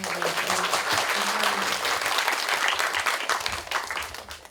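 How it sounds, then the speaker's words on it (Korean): Audience applause at a short film screening in Daegu, a dense steady clapping from a seated crowd that holds loud throughout and tapers slightly at the end. "많은 박수 쳐주셨으면 좋겠습니다"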